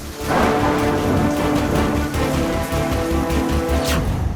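Torrential monsoon rain pours down across Madhya Pradesh, a dense, loud, continuous hiss and patter with heavy drops drumming on surfaces throughout.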